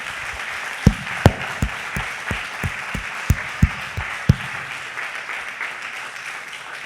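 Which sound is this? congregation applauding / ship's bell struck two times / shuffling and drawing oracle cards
congregation applauding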